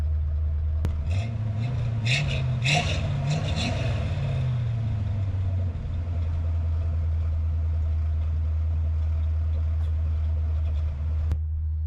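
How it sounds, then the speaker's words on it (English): A vehicle with a very loud exhaust rumbles close by, its engine revving up briefly early on and then settling into a steady, deep idle drone. "This exhaust is incredibly loud."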